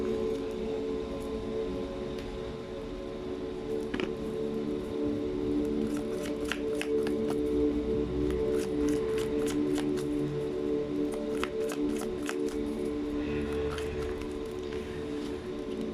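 Tarot cards being shuffled at close range, with soft riffling and clusters of sharp card snaps over a constant low hum, and no one speaking.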